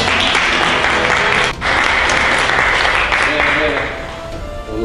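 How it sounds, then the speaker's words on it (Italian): Steady, dense applause from a large audience at a talent tour event fills the whole stretch, dipping briefly once and thinning slightly near the end, with some voices mixed in. "Un applauso."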